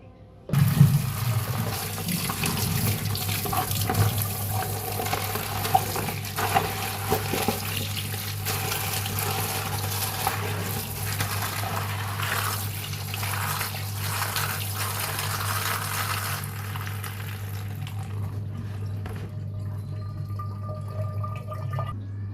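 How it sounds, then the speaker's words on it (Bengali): Tap water runs and splashes in a kitchen sink as pointed gourds (potol) are washed, a steady close rushing stream with small splashes that fades out toward the end. "পটলগুলো ভালোভাবে ধুয়ে নেব"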